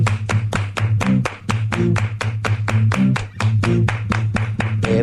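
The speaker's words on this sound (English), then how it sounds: "Everybody clap your hands." Hands clap in a steady, fast rhythm on a radio morning show, the claps sharp and close over a deep, pulsing bass beat.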